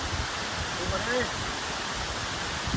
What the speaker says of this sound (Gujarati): એવું સરસ મજાનું ઉપરથી પાણી જતું જાય છે